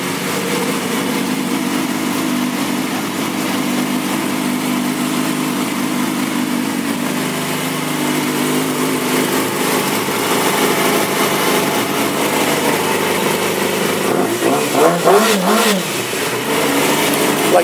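A 2007 Yamaha YZF-R6 sportbike with an aftermarket exhaust pipe idles loudly and steadily up close, then gets a sharp throttle blip and rev near the end before settling back; no talking.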